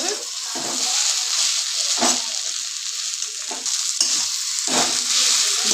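Taro leaves (kochu shak) being sautéed and stirred in a pan, loud sizzling with repeated rhythmic spatula scrapes about every second.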